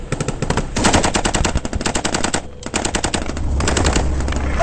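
Heavy gunfire in a military ambush, rapid machine-gun bursts and shots rattling loud and close in dense volleys with only brief pauses.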